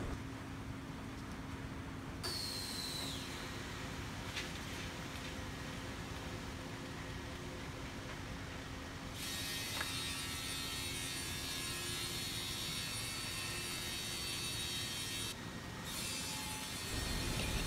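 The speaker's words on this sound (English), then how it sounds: "we will use this CNC machine to cut in the 4 edges of MGO board according to customer's requirement size" A CNC machine trims the four edges of MGO board on a factory production line, giving a loud, steady grinding and cutting roar with a constant mechanical hum throughout and brief higher whines at times.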